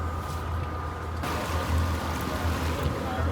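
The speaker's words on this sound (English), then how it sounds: "The port engine is working smoothly." A sailboat's port engine runs smoothly with a steady low hum and drone, mixed with water rushing along the hull while under way toward Lady Elliot Island in the Great Barrier Reef.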